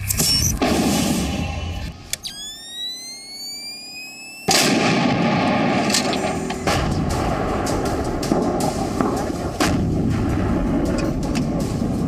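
Artillery shelling across the Line of Control, heavy booming blasts and rumbling with a rising whistle partway through, loud and continuous with no talk.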